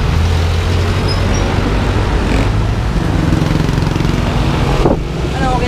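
A motorcycle on a test drive runs steadily close by, a constant loud engine drone with road and wind noise, and people talk briefly over it.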